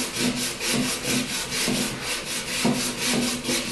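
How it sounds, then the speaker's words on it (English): Coarse, old 60-grit sandpaper rasps back and forth across wood in a steady rhythm of repeated strokes, close and fairly loud, with no talking. "Here I'm going to lightly sand and see how hard it is to get rid of that discoloration"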